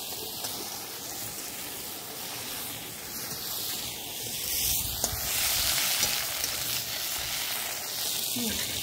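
Ridge gourd and pointed gourd sizzle in a little oil with a constant hiss that swells midway, over a low background rumble and with faint occasional stirring, while no one speaks.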